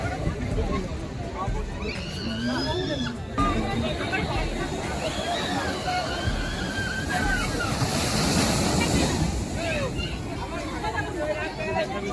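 Choppy sea waves break and slosh along Digha beach in a continuous wash, with crowd chatter and voices mixed throughout.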